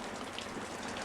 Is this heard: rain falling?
yes